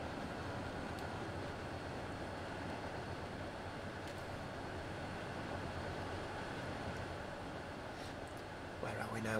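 Passenger train in Transport Fever 2 rolls steadily across a viaduct, a continuous faint rumble and clatter lasting throughout at low level.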